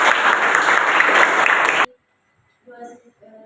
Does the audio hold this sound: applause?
yes